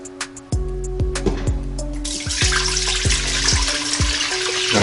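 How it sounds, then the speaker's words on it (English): Eight cups of cold water poured into the non-stick inner pot of an Instant Pot Ultra, a steady splashing pour that grows fuller and louder, with knocking and clinking from the pot at the start. "I'm going to open it up here and going to pour my water in, my 8 cups of cold water"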